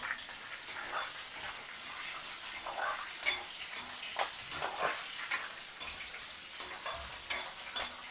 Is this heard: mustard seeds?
yes